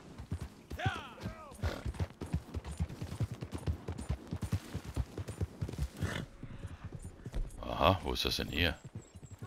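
Horse hooves clip-clop in a steady rhythm in Red Dead Redemption 2 Online beneath someone talking, with game sounds and a brief clatter near the end.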